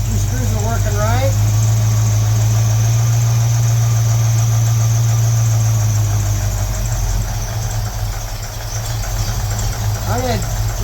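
A 1968 Ford Mustang GT Fastback engine idles steadily with a low, loud rumble while its idle mixture screws are adjusted, the idle faltering slightly toward the end, with a voice talking over it.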